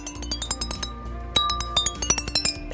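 Xylophone bars are struck in quick succession, a bright, ringing run of metallic notes that rises in density, with overlapping tones sustaining between hits and no voices.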